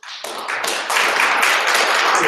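An audience claps for a candidate at a policy debate for Paju-gap in the 20th National Assembly election, with steady, dense applause starting abruptly and holding loud and close throughout.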